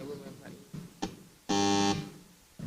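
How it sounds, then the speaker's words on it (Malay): A loud, steady electronic buzzer sounds once for about half a second as a one-minute time warning for panelists at a formal presentation session, with brief talk and room noise before and after it. "satu buzzer akan dibunyikan apabila panelis hanya berbaki 1 minit"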